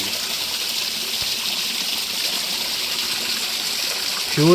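A hillside stream on a trekking route rushes steadily downhill in a continuous broadband wash, with a brief voice emerging right at the end.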